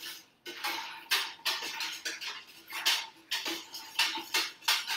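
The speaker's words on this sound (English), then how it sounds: "you're gonna want to stir it, mix it" A spoon stirring a natural dye mixture in a pot over low heat, a repeated series of close scraping, clinking strokes in an uneven rhythm, fairly loud and alone without speech.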